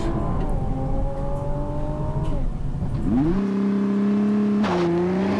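A 2020 Nissan GT-R 50th Anniversary Edition launches hard under launch control, its engine roaring loudly and climbing through the revs, dropping briefly at a gear change, then pulling again with a strong, steady, close drone.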